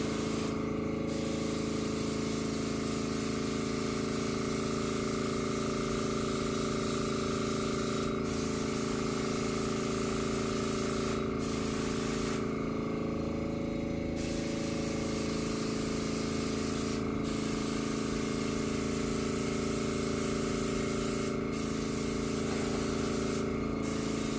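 An inexpensive airbrush sprays paint, a loud continuous hiss of air held close, broken by a few brief pauses.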